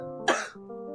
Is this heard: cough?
yes